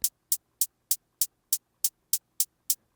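A synthesized hi-hat made from filtered noise ticks in a crisp, evenly spaced run of about eleven short hits, bright and isolated against near silence with a faint low hum underneath.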